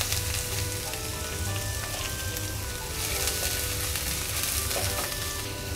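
Green onions sizzling in a hot pan with oil, a loud steady crackling fry close up with faint stirring scrapes and no talk.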